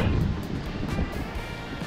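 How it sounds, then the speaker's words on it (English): Steady wind at the shore rushes and rumbles against the microphone, a broad blustery roar with no talking. "I wish it wasn't so windy."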